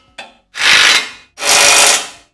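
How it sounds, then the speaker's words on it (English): Bolts for a winch mount on a Ford Bronco are driven and tightened with a power tool, giving two long, loud whirring bursts of roughly a second each after a short tap, with no talk. "It's now time to install the three bolts on each side and tighten them all up."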